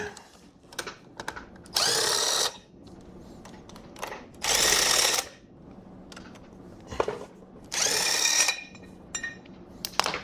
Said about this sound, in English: now we're gonna unbolt it